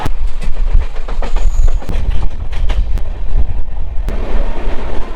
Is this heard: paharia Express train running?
yes